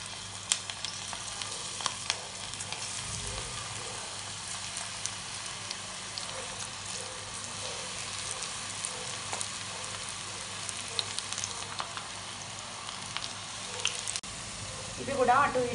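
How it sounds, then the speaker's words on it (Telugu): Onion bajji frying in hot oil, deep fried and turned until golden brown: a steady, dense sizzle and crackle of bubbling oil running throughout, with occasional light clinks of a utensil. "ఇవి కూడా అటు ఇటు తిప్పుకుంటూ డీప్ ఫ్రై చేసుకోవాలండి గోల్డెన్ బ్రౌన్ కలర్ వచ్చేంత వరకు"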